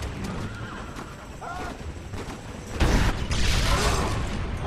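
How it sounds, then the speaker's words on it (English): Horse whinnies ring out amid mechanical clanks and creaks in the video game Red Dead Redemption, with a louder rush of noise and movement in the second half. "Oh, the horses!"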